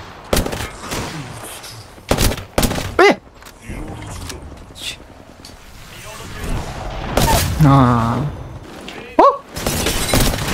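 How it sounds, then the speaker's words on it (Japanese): Airstrike explosions pound the battlefield in Apex Legends, a run of loud, sharp bursts and crashes spread across the stretch, with a player's voice exclaiming between them. "お、どこ行っても空爆やこれ"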